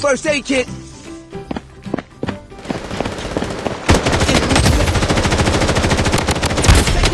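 Gunfire in Blood Strike, starting with a few scattered single shots and footsteps, then breaking into sustained rapid automatic fire, with someone speaking over the action.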